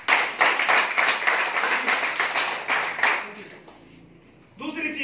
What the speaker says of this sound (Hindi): बिल्कुल ताली चाहूंगा।